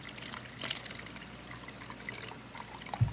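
Polished stones from a Vevor rock tumbler get rinsed under running water, a steady close splashing and trickling with small drips and knocks, no talk.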